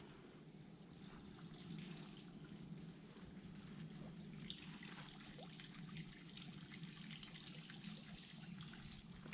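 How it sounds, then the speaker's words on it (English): Water runs faintly in a creek or spring somewhere out of sight, a steady soft trickle along a quiet country walk, with crickets and faint ticking above it. "I can hear water running in there."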